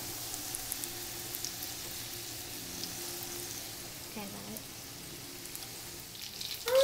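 Chicken cutlets for chicken parmesan sauté in a pan, a soft, steady sizzle heard at close range, with faint clinks partway through and a louder stir or scrape at the end.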